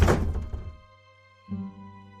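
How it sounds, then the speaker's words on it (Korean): An attic door slams shut with a single heavy thunk that rings and decays, followed by a quieter resonant knock a moment later. "제가 문을 염과 동시에 다락문이 쾅 하고 닫히는 거예요"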